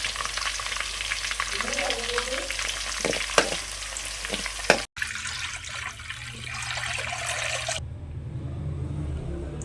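Ghee rice is being sautéed with salt in a hot pan on a home stove in Kerala, a steady close sizzle with occasional stirring clinks, briefly interrupted and shifting in tone near the end.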